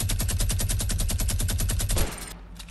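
Rapid automatic gunfire in Fortnite Battle Royale, a steady stream of about twenty loud evenly spaced shots for two seconds, then cutting off into a brief fading tail.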